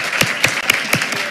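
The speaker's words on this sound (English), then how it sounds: "And let's give her one more round of applause." Scattered applause breaks out for a teacher at a school board meeting, several separate claps from a small group at close range over a brief moment.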